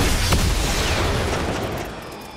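Gunfire in a battle royale shooter game: a sharp, loud report at the start followed by rolling booms and a decaying echo that fades away over a couple of seconds.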